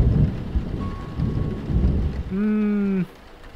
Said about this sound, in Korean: 천둥 번개 소리 때문에 무서워서 못 자겠어